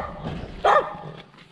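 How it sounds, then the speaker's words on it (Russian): A dog at a rural children's home gives a single sharp, close bark in the middle of a low background murmur. "Вы когда туда шли с подарками, никак не гавкал."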